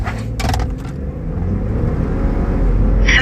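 A tuned Ford F-150 3.5 EcoBoost pickup launches in a 0-60 run on a closed course, its engine a loud continuous drone rising in strength, with brief rattles and clicks inside the cab.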